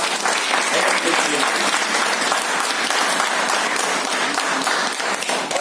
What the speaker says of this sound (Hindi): एक जोरदार ताली भैया के लिए बजाइए